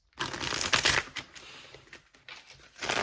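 A deck of cards is shuffled up close, with rapid riffling bursts and crisp flicks in a couple of passes separated by a short pause, with no voices.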